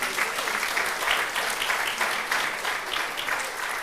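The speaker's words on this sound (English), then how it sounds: "So I'll ask you to give these three people a round of applause." Audience applause at a town hall meeting, a loud, dense and continuous round of clapping from a crowd that stays steady for the whole stretch.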